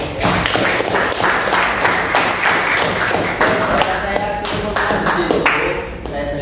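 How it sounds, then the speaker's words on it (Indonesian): Classroom applause from students, steady dense clapping with some sharper taps and voices mixed in throughout, fairly loud and close. "tepuk tangan dulu untuk Mas Vino sama Mas Hasil."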